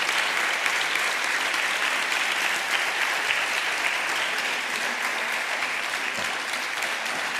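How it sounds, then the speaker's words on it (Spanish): An audience at a talk on making a comic book gives sustained, loud applause, a dense unbroken wash of many hands clapping at an even level throughout. "Un fuerte aplauso, muchas gracias."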